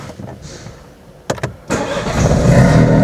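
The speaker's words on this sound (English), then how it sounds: "Now let's turn the engine on." A BMW 1 Series F20 with an electric power steering fault is started: a few quick starter clicks and a brief crank, then the engine catches and settles into a loud, steady idle close by.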